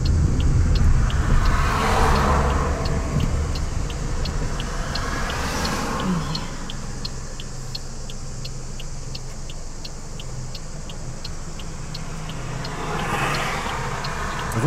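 A car rumbles along a road in Igoumenitsa, Greece, on a summer day, engine noise swelling as it passes and fading away, with further passing-traffic surges near the start and end.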